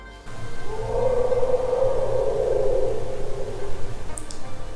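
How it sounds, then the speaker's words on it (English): A low, sustained elephant call sounds close by in a street near Chitwan National Park, Nepal, a long resonant rumble lasting a few seconds over steady background noise. "I wonder if there's like an elephant out in the street or something, because that sounded close"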